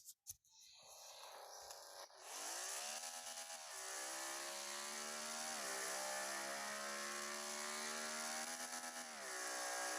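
A motorcycle engine in a video game accelerates toward its top speed, with a buzzing whine that climbs steadily, drops briefly at gear changes, and climbs again at a constant, fairly quiet level.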